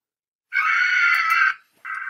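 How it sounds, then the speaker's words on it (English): People let out a loud, sustained scream lasting about a second, followed by a short pause and another scream beginning, piercing and close. "Stop screaming."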